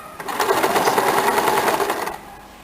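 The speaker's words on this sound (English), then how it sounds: "turn back for the double stitch. Just stitch on the top of the first one stitch." Sewing machine running a continuous double-stitch along a blouse shoulder seam, a loud, steady rapid whirring chatter lasting about two seconds before stopping.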